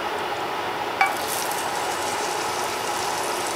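Vegetable pancake batter fries in olive oil, a steady broadband sizzle filling the whole stretch, with one brief scrape of a utensil against the pan near the start.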